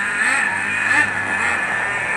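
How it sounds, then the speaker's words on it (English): Nitro-engine remote control car running nearby, a loud, steady high-pitched buzzing whine with slight pitch wobbles as the throttle shifts, no talk. "Break in on a nitro engine is paramount to the life of the engine."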